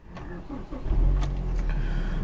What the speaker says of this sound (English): so I'm going to turn my car on right here.